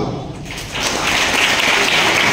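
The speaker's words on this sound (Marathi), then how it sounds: "ज्यांनी हात वर केला नव्हता त्यांनी त्यांच्यासाठी टाळ्या वाजवा" Schoolchildren clap in a group at a police talk on good touch and bad touch, a dense steady patter that swells after a softer start and stays loud to the end.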